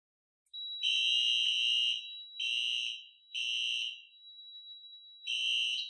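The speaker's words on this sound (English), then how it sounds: "look at the time and amount of smoke required to activate my detector" A Cerberus PRO smoke detector goes into alarm, sounding a loud, piercing electronic tone in repeated long bursts with short gaps, over a faint continuous high whine.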